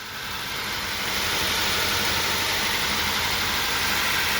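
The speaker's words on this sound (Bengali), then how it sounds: "ফাইনালি ইঞ্জিন স্টার্ট হয়ে গেছে। ইঞ্জিনের সাউন্ড একদম পারফেক্ট আছে।" A petrol engine in a Hyundai i20 car idles steadily, a continuous even rumble and hum that holds at the same level throughout, with no voices.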